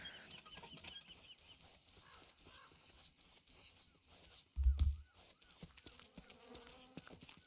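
Bees buzz faintly in the video game Don't Starve, a soft insect drone under other game sounds, with a short loud thump partway through.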